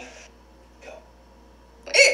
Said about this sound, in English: okay, I have the hiccups